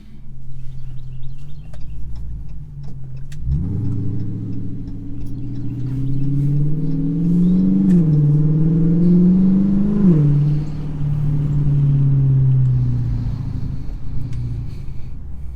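A 2020 Chrysler 300S on a test drive, its engine a steady low rumble that swells as the car accelerates from a standstill, holds a rising drone through the middle and eases off toward the end, with no talk.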